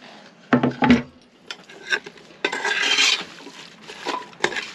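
Leek being sliced on a cutting board in a small campervan kitchen, a few quick knife strokes with sharp taps against the board, then rasping scraping and shuffling, close and moderately loud, with no one speaking.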